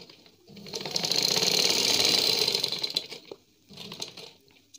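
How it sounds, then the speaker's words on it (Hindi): A sewing machine runs a welt seam through doubled plain fabric, a steady rapid whirring stitch for about two seconds, then slowing into a few short bursts. "ये हमने सिलाई लगा दी"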